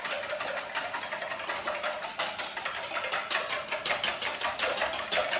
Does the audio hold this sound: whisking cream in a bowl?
yes